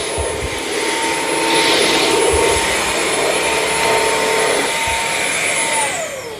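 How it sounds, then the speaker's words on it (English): A Bissell CrossWave wet-dry vacuum runs steadily at close range with a loud, whining motor drone and a broadband whoosh, and its pitch shifts slightly as the machine moves. At the end the motor winds down, and no one speaks. "Gets right up next to the wall. Yeah, this is a nice little vacuum."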